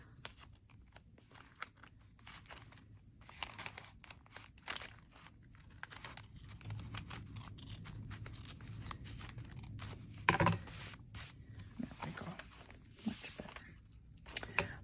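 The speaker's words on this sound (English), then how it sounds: "I'm just cutting it to size" Scissors snipping through a paper map to trim its edges for a travel junk journal, soft intermittent cuts and paper rustles close by, quiet throughout with one sharper crunch partway.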